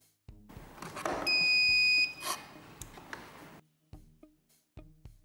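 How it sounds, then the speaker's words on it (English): Wireless beam detector alarm sounds a loud, sustained electronic tone for about a second amid clicks and handling noise, followed by a few sharp ticks and quieter taps, close up, no talk. "If the barrier is completely broken, the alarm will be activated."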